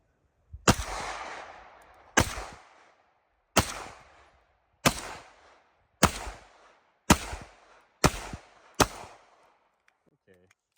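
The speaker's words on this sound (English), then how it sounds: "We're going to try to stack rounds into that 1-inch circle on the target" Eight sharp pistol shots from a 2019 Staccato P fired at a target, loud and close, spaced roughly a second apart with short echoing tails, followed by a brief voice at the end.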